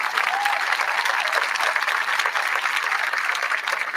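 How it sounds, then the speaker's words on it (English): Sustained applause from a crowd at a hospital ribbon-cutting ceremony, honoring the board members, a dense steady roar of many hands clapping at even loudness throughout. "receive a round of applause for the wonderful work that you do"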